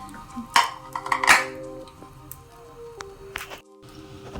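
Large bread slices laid one at a time onto a hot oiled pan, a couple of close, sharp clatters and scrapes followed by quieter handling.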